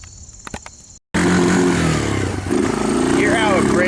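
A Kawasaki Lakota 300 ATV engine fitted with a China-made CDI runs roughly and breaks up, loud and close, rattling steadily after a brief cutout, with a voice talking over it.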